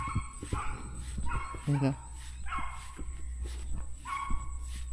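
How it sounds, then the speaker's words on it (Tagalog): A dog cries and whimpers near a rice field in repeated plaintive whines, set behind close conversational voices talking over it. "May umiiyak na aso dito, ano?"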